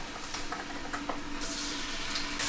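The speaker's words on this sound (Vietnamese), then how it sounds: "sẽ bắt đầu xào, bỏ dầu vô" Minced garlic stir-frying in hot oil in a pan for a spicy Korean seafood and soybean sprout dish, giving a steady, close, continuous sizzle with faint scraping stirs throughout.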